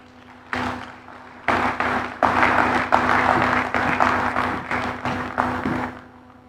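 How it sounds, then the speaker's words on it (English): Audience applause at an African local content investment forum, a sustained round of clapping that starts lightly, swells to a full, dense burst and holds steady throughout, with a faint hum underneath. "A round of applause for him, please."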